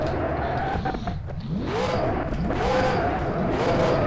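A big racing car's engine in a racing video game, leaving the Monaco pit lane, drones loudly and steadily with repeated rising and falling revs and gear changes, no voices.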